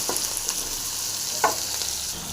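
Tomatoes and a small piece of ginger frying in a pan for onion chutney, a steady hissing sizzle with one soft stir or tap, close and continuous over a short stretch with no voice.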